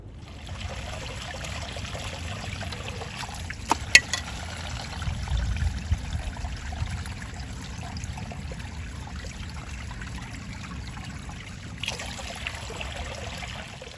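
A stream of water along the Appalachian Trail, a continuous, soft trickle and burble running steadily, with a couple of faint clicks partway through.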